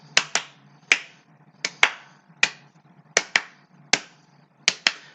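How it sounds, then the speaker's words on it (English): Sharp hand claps come mostly in quick pairs, with a few single claps, repeating at an uneven pace in a quiet room. "Now double claps."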